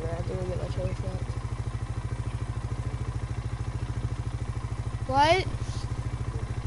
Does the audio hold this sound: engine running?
yes